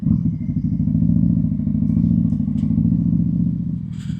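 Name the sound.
motorcycle engine with 3030 cam at low RPM, jerky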